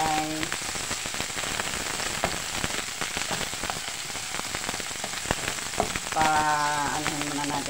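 Garlic browning in hot cooking oil for sardines with noodles, a dense crackling sizzle that spits and pops throughout, with brief voiced sounds at the start and end.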